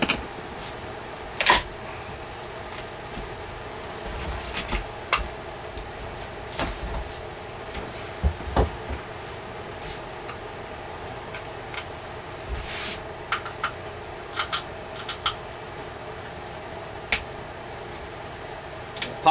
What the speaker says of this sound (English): Popping sound you're hearing is the those little hot glue dollops I told you I put on.